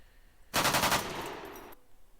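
Automatic firearm firing a rapid burst of successive shots, a loud rattling string of reports that starts abruptly after a quiet moment and trails off into a decaying echo.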